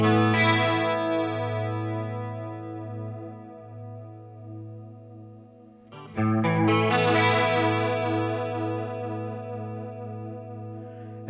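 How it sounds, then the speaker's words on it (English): Electric guitar through a NUX Mini Core pedal on a pitch modulation setting: two sustained, chorused chords that ring out with a wavering, shimmering pitch, the second struck after a short pause, loud and close with no voices. "let's go to pitch modulation."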